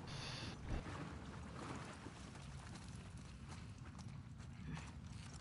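Horse hooves clip-clop steadily across the whole stretch in The Last of Us Part II, a game set in Seattle, under a constant low rumble of ambient noise, with no one speaking.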